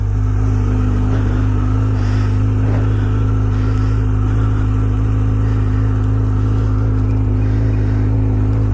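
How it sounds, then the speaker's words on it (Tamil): A Kawasaki Z900 motorcycle engine idling after a cold start, a loud, steady low rumble running without a break and heard up close and alone, with no talk over it. "கொஞ்சம் கோல்ட் ஸ்டார்ட் பண்ணி விட்ருக்கோம். நம்ம கொஞ்சம் என்ஜின் ஹீட் ஆகட்டும்."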